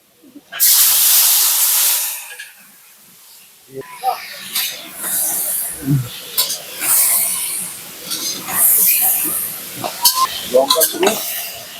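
Chopped tomatoes hit hot mustard oil tempered with black mustard seeds while village-style chicken kosha is cooked, bursting into a loud, sharp sizzle that settles into an intermittent hiss broken by stirring scrapes and clinks.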